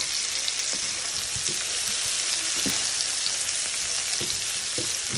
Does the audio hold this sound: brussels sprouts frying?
yes